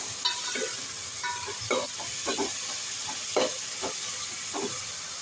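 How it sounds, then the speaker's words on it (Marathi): Sliced onions fry in a pan for a large batch of potato and pea curry, a steady sizzle under repeated scraping stir strokes every half second or so, close and with no talking. "कांदा पटकन फ्राय होईल छान गुलाबी वेपर्यंत फ्राय करूया"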